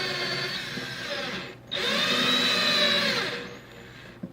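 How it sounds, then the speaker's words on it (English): A power drill whines steadily as it grinds into stainless steel, pausing briefly before the motor revs up again with a high, strained pitch. "Like I said, stainless is hard to drill."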